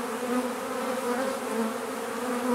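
A swarm of honeybees fills the air around a hive box and a branch, giving a steady, dense buzzing drone that holds close and even throughout with no talk.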